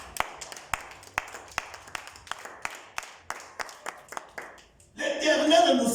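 A church congregation claps in a steady, slightly ragged rhythm of sharp, separate hand claps, then breaks into louder, fuller applause and cheering at the close.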